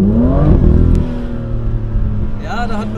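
A BMW M2 LCI F87 with DKG gearbox in Sport Plus mode, its engine revving loudly and climbing in pitch up close, then settling to a steadier drone before rising again.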